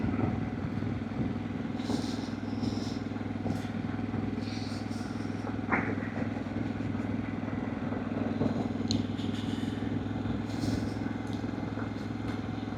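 Harley-Davidson Pan America adventure motorcycle riding a rocky trail, its engine a steady continuous drone with wind rush and occasional light clatter, close and constant throughout.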